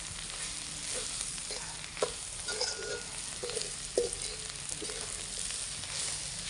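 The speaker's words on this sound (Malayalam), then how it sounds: "നമുക്കതിന് ഇളക്കി എടുക്കാം." Thick homemade chicken curry stirred in a pan with a spoon, giving soft scraping and thick bubbling sizzle, with a few louder knocks of the spoon against the pan at steady intervals.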